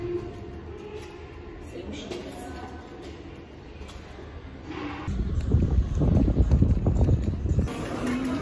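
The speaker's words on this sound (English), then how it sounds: "And it's windy, yo." Gusty wind buffeting the microphone, rising into a loud low rumble in the second half, with a steady outdoor hiss underneath.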